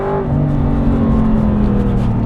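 An Aston Martin V8 Vantage engine revs hard and loud, with a steady droning growl that holds throughout, close by.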